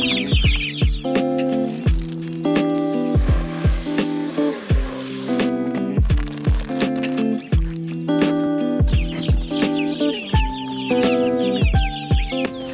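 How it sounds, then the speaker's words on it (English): Forty Cornish cross chickens cluck in a brooder, loud close-up rapid clucks and chirps overlapping in continuous rhythmic bursts, with no talking. "in this brooder, we have 40 Cornish cross chickens and 1 goose."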